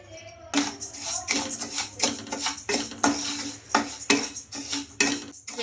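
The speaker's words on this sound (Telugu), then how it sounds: "కడాయి కొంచెం హీట్ అయిన తర్వాత ఒక కప్పు రేషన్ బియ్యం అయితే వేసుకోవాలండి" Ration rice tipped into a hot kadai and stirred, giving a busy, close clatter of grains and a spoon scraping against the metal pan, continuous and fairly loud.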